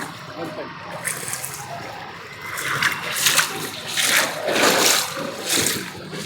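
Floodwater splashes and surges in repeated loud waves at the Chakan vegetable market in Pune, close by, with a voice talking faintly underneath.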